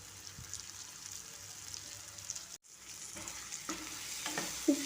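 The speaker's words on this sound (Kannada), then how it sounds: "ಇವಾಗೆಲ್ಲನೂ ಚೆನ್ನಾಗಿ ಮಿಕ್ಸ್ ಮಾಡ್ಕೊತಾ ಇದ್ದೀನಿ" Tomatoes with salt stirred and frying in a pan for churmuri, a soft continuous sizzle with spatula scrapes and taps, briefly cut to silence midway, no talk.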